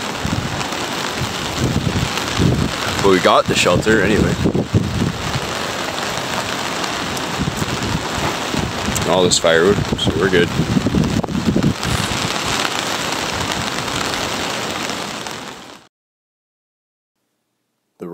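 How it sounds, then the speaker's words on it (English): Heavy rain falls steadily on a riverside camp at a gravel bar in the upper Pitt River during a rainstorm, a constant hiss with wind buffeting the microphone and someone talking over it briefly before it cuts to silence. "And the rain is not stopping."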